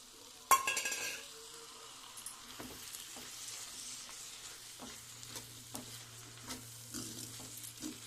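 Chicken pieces and broad beans cooking in a pan, with a sharp clatter at the start, then a low steady sizzle and soft scattered taps of stirring heard up close with no talk.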